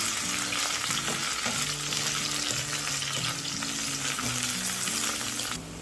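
Mint sizzles in a biryani pot for mushroom biryani while being sautéed and stirred, a dense steady frying hiss with repeated utensil scrapes and knocks against the pot, close and fairly loud before cutting off at the end.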